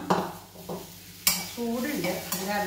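Ingredients roast in a pan for a sambar masala paste, with scraping stirs, sharp clinks of a spoon against the metal and a soft sizzle between them.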